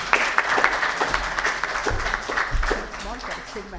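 Audience applause for award winners at a CSR leadership awards ceremony, moderate clapping spread across the hall with a few sharper claps standing out, continuing steadily and slightly fading toward the end.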